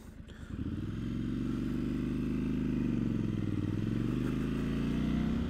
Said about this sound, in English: once you get past that very initial bump in the throttle, this engine smooths out so much